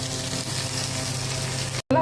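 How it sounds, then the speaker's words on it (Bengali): Pre-roasted spices are tipped into hot oil in a pan and give off a brief, close, steady sizzle. The sound cuts out abruptly near the end, and there is no speech. "জাস্ট একটু গরম তেলে দিয়ে দিলাম"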